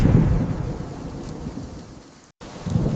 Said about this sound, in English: Thunder rolled into the hills and rain crashed down on the meadow.